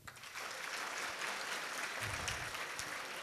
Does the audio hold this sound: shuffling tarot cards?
no